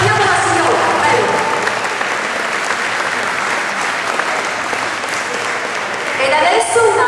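An audience at the first edition of an Italian applied arts and crafts fair breaks into loud, sustained clapping that fills the whole stretch, dense and steady with a slight swell toward the end.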